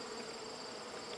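A soft, steady buzzing of many honey bees hums at a low level, a continuous droning hive sound with no voices.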